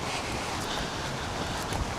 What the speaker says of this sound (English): It's a bit of a windy day as well